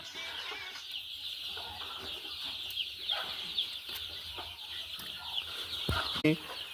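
Desi gavran chickens clucking, with soft intermittent clucks over a steady farmyard hum and a brief louder rustle near the end.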